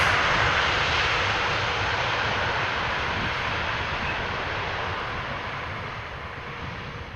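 Airliner jet engines roar steadily at Amsterdam Schiphol Airport, a loud, continuous broadband rumble that fades slowly as an aircraft moves away, with no talk over it.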